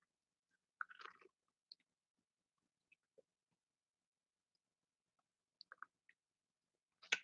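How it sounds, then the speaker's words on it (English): Someone eating a cracker: quiet, close crunching bites in a few brief clusters separated by near silence. "Excuse me if you hear crunching. I'm eating my cracker."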